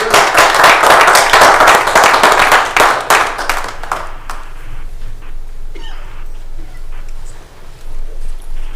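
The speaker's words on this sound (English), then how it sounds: "A round of applause for Mr. Andrews." Audience applause at a Lake County, Ohio county commissioners meeting: loud, dense clapping for about four seconds, then thinning out into scattered claps and quieter room noise.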